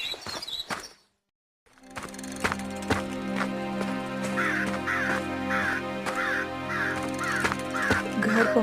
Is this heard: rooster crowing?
no